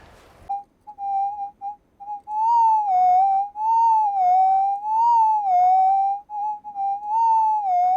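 A Minelab 2300 metal detector emits a steady warbling electronic target tone that pulses and wavers in pitch, starting with short chirps before holding a continuous signal.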